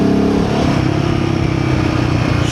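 Royal Enfield Himalayan 450 single-cylinder motorcycle fitted with a Fuel X Pro Plus module and BMC air filter, engine throbbing loudly and close while riding, with a steady pulsing note that rises slightly under throttle.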